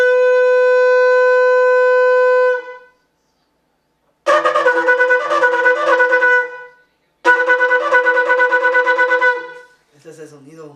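Shofar blown as a ram's horn call: a long, steady, bright tone, then after a pause two bursts of rapid wavering notes in the teruah alarm pattern, loud and close, with a brief fading tail at the end.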